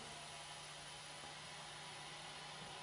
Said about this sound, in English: We'll let the air back in.